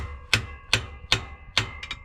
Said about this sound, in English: sometimes you get a chisel and a big drift pin in there and hammer it over